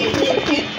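Pigeons cooing at a Bangladeshi pigeon sale, close and continuous, soft throaty murmurs rising and falling across the short moment with no talk.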